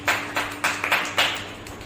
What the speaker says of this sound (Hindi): एक आपस में एक ताली बजाइए।